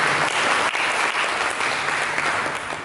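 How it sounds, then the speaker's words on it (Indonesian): Church congregation applauding during a sermon, a dense sustained wash of many hands clapping together, steady and fairly loud before tapering slightly at the end. "Berikan tepuk tangan bagi dia."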